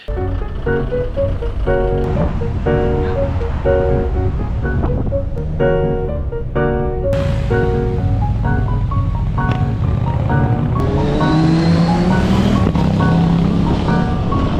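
A Toyota GR Yaris climbs the crowded Stelvio Pass in Italy, its engine note rising and falling through repeated gear changes over steady wind and road rush, loud and unbroken for the whole stretch.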